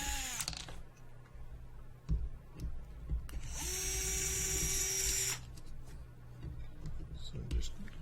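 A power tool whirs briefly as ball studs come off a PR Racing Type-R EVO RC buggy, a steady high-pitched drill-like whine lasting a couple of seconds amid clicks and handling noises, with someone talking around it.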